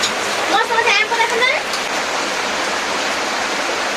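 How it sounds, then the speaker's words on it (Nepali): Steady rain falls outside a village home in rural Nepal, a dense continuous hiss filling the clip, with a voice talking briefly near the start. "अब यो झरी पानीले सबैको साथ लाग्छ"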